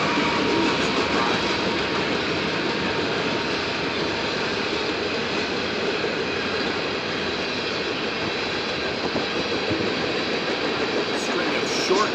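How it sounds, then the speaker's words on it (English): A long CSX freight train with distributed power units and tank cars rolls steadily past trackside, a loud, continuous rumble and clatter of wheels and cars throughout. "We're rolling by a 260 train."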